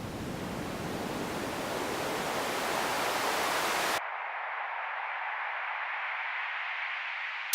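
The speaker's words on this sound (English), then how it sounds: "As you can tell, it's what we would describe as very band passed." Broadband noise played through a Logic EQ on an auxiliary channel, full and hissing at first, then abruptly narrowed to a thin band-passed midrange hiss that holds steady to the end.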